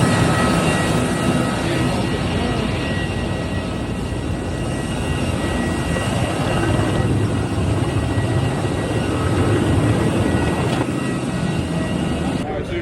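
An airplane lands at Providenciales airport in Turks and Caicos, heard as a loud, steady engine roar and rushing noise that fills the cabin, with people talking faintly underneath.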